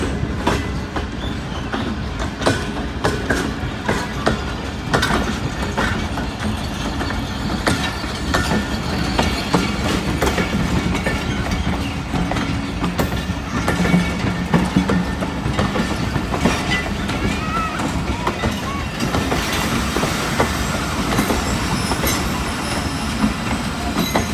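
The long-rake 11 Hazar Express passes through Mandi Bahauddin railway station with a loud, steady rumble and a continuous clickety-clack of wheels over rail joints lasting throughout, with no voices.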